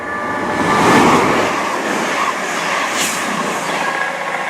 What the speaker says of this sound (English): Also passing through now is 1 Sierra 41.